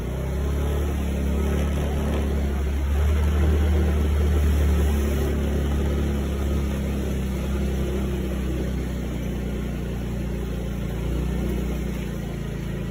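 A vehicle engine hums steadily on a village road, a continuous mid-level drone with a slight swell as it picks up speed, heard close and alone without talk.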